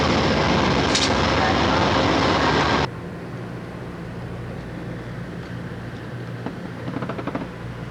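A rattling Amtrak passenger train car rolls along with loud, dense rumbling and clatter for about three seconds, heard from inside. The noise then cuts off abruptly to a quieter, lower hum with faint ticking and knocks.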